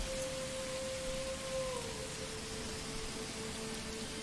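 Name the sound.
heavy rain in video game Manor Lords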